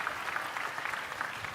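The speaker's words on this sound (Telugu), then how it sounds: "గట్టిగా చప్పట్లు కొట్టి అభినందించండి" Applause from a school parent-teacher meeting audience, steady and dense across the whole short stretch, a continuous patter of many hands at moderate distance.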